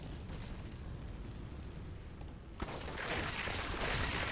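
A monster breathing fire in the video game Diablo 3 Reaper of Souls: a steady, dense roaring rush that swells louder partway through, with a sharp burst at the shift.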